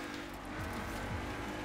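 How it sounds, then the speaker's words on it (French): Engine drone of a car sliding sideways through a corner while drifting in the racing game Forza Horizon 4, a steady loud roar with rising and falling revs and faint tire squeal throughout. "ce virage je le prends toujours en travers"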